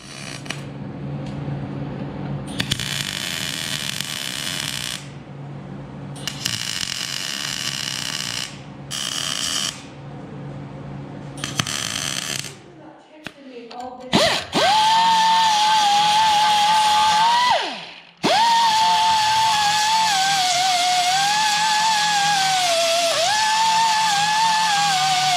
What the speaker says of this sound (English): we got all the welds ground down, so the new bracket is installed